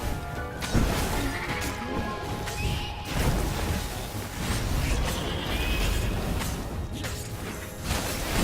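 Combat in the action game Stories: The Path of Destinies, with repeated smashing crashes and thwacks, whooshing swings and creaks, loud and continuous throughout, with no talk.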